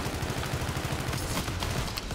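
Rapid automatic gunfire in Call of Duty Infinite Warfare multiplayer, a loud, dense stream of close shots fired continuously over the game's ambient sound.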